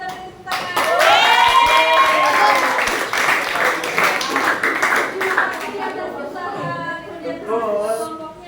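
A school class applauds a group's fashion production work, a burst of clapping lasting several seconds that fades out, with children's voices and chatter mixed in and trailing after.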